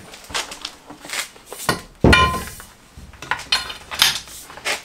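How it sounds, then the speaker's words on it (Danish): A Milwaukee pipe cutter works a length of pipe, producing close metallic clinks, scrapes and rattles in irregular bursts, with a sharp louder clank partway through. "Så vi starter lige med at skære en stump rør."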